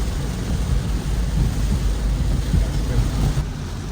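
Steady rain with low rumbling thunder along the Linden highway in Guyana, a dense continuous wash of noise that stays loud and even throughout, with no clear voices over it.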